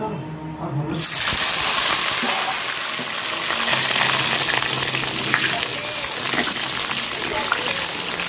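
Pointed gourd (potol) pieces frying in oil in a pan, a loud dense sizzle starting abruptly about a second in and continuing steadily, close up.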